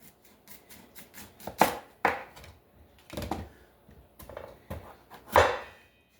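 Knife chopping through a hard sweet potato on a kitchen cutting board, a series of sharp, close thuds at irregular intervals with quieter scraping between them.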